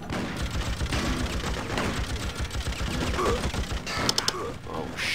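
Gunfire in the Freedom Fighters video game crackles as rapid, dense bursts of automatic fire, steady and close with a few sharper shots near the end.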